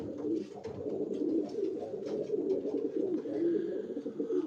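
Racing pigeons coo in a loft, their low, throaty calls overlapping steadily and close by with soft rhythmic rises, and no one talks.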